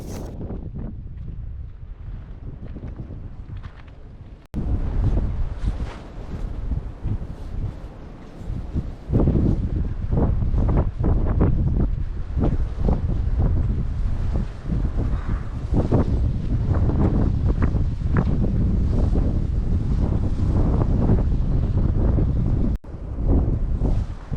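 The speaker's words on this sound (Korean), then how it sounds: "이곳은 정말 바람이 많아서 돌담이 없이는 바람 때문에 견디기가 어려운 그런 곳이 아닌가 생각이 드네요" Strong wind sweeps across a Jeju island village with old stone walls, gusting loudly and continuously into the microphone with a deep rumbling roar.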